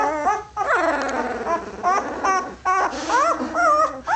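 Puppies whimper and yip close by in a series of high, wavering cries with short pauses between them, loud and with no talking.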